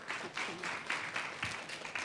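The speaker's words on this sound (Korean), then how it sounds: "큰 박수로 맞이 부탁드립니다." An audience at a youth panel conference in Busan claps to welcome a presenter, a moderate patter of applause coming in several short swells over about two seconds.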